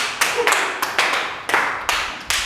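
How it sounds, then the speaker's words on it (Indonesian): Scattered claps from a classroom of students applauding a presenting group in a geography lesson, a handful of distinct sharp hits spaced unevenly, fairly close and loud, with no talking. "Thank you, tepuk tangan untuk kelompok 1."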